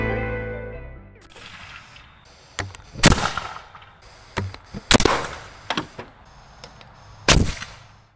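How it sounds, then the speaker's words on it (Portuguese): A homemade propane-powered plasma gun that launches bottles fires several sharp, loud bangs at irregular intervals, each followed by a brief ringing decay, with quieter clicks and rattles between the shots. "Esse cara fez a sua própria arma de plasma lançadora de garrafa usando gás propano."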